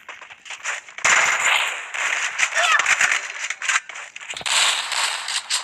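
Rapid bursts of gunfire from the Free Fire video game in a 4v4 ranked match, sharp repeated shots and clicks in clusters throughout, fairly quiet overall with faint voices in the background.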